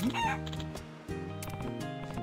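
A pet chicken in the video game Like a Dragon: Pirate Yakuza in Hawaii gives a short, quiet cluck at the start, over steady background game music that continues throughout.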